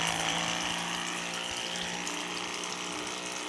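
A small 500-rupee solar-powered pump runs steadily, pushing liquid organic treatment for drip and sprinkler irrigation, a continuous close whirring hum with trickling water and no talk.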